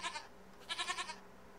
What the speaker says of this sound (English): Oh, hey, here's a goat. Here's a couple of goats.